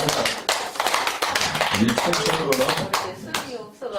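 Slow, uneven clapping from a Buddhist dharma talk audience in Chungcheong province, a scattering of hand claps and taps mixed with someone talking over them at close range.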